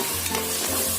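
Green chillies stirred and frying with softened tomatoes in a pan, a steady close sizzle with soft scraping strokes of a spoon running throughout.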